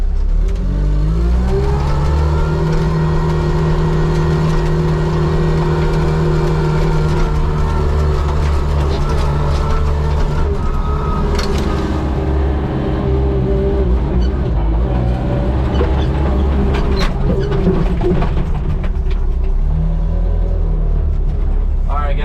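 A Chinese wheel loader drives fast in high gear over rough ground, its engine a loud, continuous roar and rumble that holds steady from start to finish.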